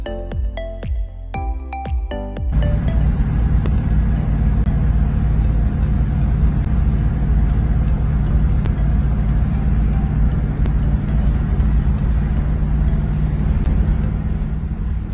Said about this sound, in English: So Christy and Mel drove the Triumph Stag over to the coast.